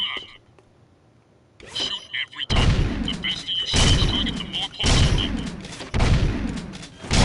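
Rapid gunfire at shooting-range targets in Jak 2, loud repeated bursts of blaster shots after a quiet opening, in dense clusters with brief gaps between volleys.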